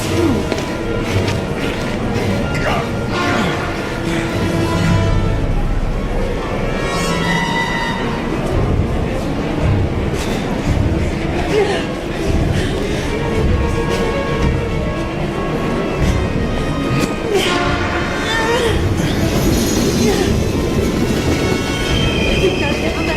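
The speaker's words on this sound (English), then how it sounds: "We've got to get on that train, Ethan. It's our only chance." A train in the video game Heavy Rain rumbles past at close range, heavy and continuous, with wheels squealing and rhythmic clacking over the rails, loud throughout.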